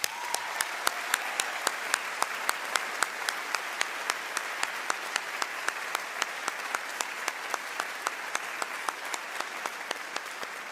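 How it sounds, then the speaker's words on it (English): An audience at a college honors convocation applauds award winners with a steady, moderately distant patter of clapping, one clapper's sharp claps standing out in a regular beat throughout. "Now let's give another round of applause for all of today's award winners."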